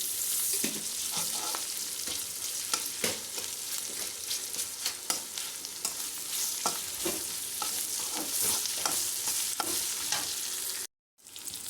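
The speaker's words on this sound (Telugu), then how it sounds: "కొద్దిగా అల్లం వెల్లి పేస్ట్ వేసుకుందాము. హాఫ్ స్పూన్ పచ్చి వాసన పోయే వరకు ఫ్రై చేసుకోవాలి." Ginger garlic paste with turmeric fries in hot oil with a steady close sizzle, broken by frequent scraping and stirring clicks from a utensil, and there is a brief dropout near the end.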